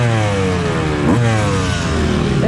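A two-stroke motorcycle fitted with a Lectron Billetron carburetor revs up loudly and close, its crisp engine note rising and falling in pitch across a couple of seconds.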